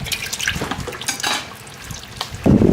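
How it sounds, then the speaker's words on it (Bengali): Water runs into a bottle in a home kitchen during biryani preparation, a close splashy trickle with drips that swells into a louder, fuller pour at the end. "বোতল ভরিয়ে দিলাম"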